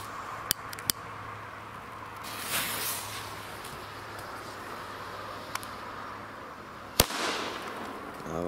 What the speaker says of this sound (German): Starten wir mal mit dem kleinen Hürtenböller